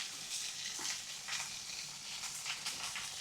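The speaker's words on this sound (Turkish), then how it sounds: "Onu kızartıyorum ben." Food sizzles and crackles in a pan over heat, a steady close frying hiss with small pops and stirring, no talking.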